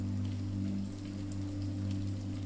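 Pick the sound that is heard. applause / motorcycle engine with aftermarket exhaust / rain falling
rain falling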